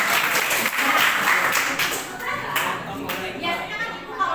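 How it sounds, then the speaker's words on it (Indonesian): A short burst of clapping in a kindergarten classroom, a brief round of applause that tapers off, with children's voices and adult talk mixed in. "oke, tepuk tangan."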